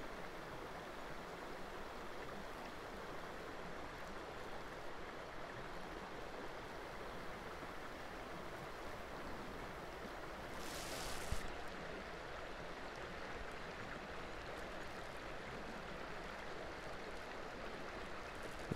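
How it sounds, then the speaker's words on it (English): Rapids of a stream rush steadily through a culvert on a muddy trail, a constant loud broadband water roar with no pauses and no talk. "There's a beautiful shot through this culvert of the rapids"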